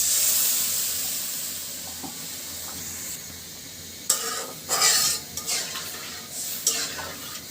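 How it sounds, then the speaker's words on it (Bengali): Broth poured into a hot pan of sautéed papaya and fish: a soft steady sizzle at first, then a burst of louder hissing and bubbling with a few utensil clinks as the liquid hits. "এখন আমি ঝোলটা দিয়ে দিচ্ছি।"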